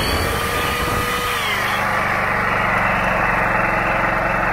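A gasifier-fed engine runs at a low eco-mode idle while a drill draws load from it. The drone is close and steady, with a brief pitch shift early on before it settles into an even hum.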